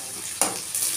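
Curry leaves dropped into hot oil for chicken gravy, a sudden sharp burst of sizzle and crackle over a steady frying hiss, close and brief.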